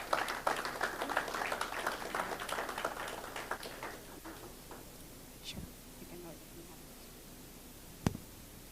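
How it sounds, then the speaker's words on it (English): An audience at a cybersecurity industry forum applauds a speaker; dense clapping fills the first few seconds, then thins and fades to near quiet with a few stray taps. "can we give him a round of applause?"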